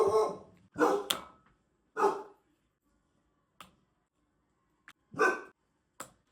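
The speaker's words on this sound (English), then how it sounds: "Hey, what are you barking at?" A dog barks close by in several separate sharp barks with pauses between, plus a few faint clicks in the quiet gaps.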